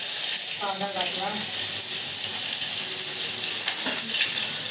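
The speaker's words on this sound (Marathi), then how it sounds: "गॅस लो ठेवलाय. कांदा टाकला" Chopped onion fries in a pan over a low gas flame, giving a steady, bright sizzling hiss with soft crackles. Someone speaks briefly over the frying.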